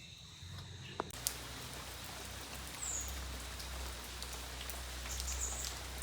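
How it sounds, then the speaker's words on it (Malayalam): Steady rain falls outdoors in the Kerala countryside, a soft, even patter and hiss of drops on surfaces, after a couple of faint knocks at the start, with a distant bird chirp. "ദേ പെയ്യണു മഴ"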